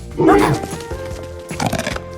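A man imitates a dog with two loud, gruff barking yelps, one early and one a little over a second later. Other voices are around him.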